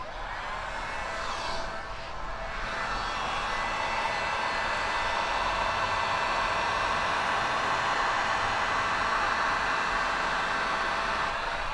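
A heat gun blows a steady, broad whoosh of air close by while paint protection film is warmed and pressed onto the trunk of a Tesla Model 3; the noise runs continuously with no talk.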